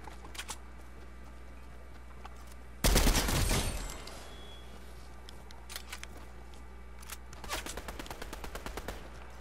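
Gunfire in a Fortnite squad match: one loud, dense burst of automatic fire, then quieter scattered shots and a short rattling volley further off.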